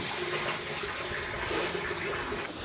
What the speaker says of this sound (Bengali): তারপরে পরিমাণ মতো জল দিয়ে সবজিগুলো সেদ্ধ করে নেব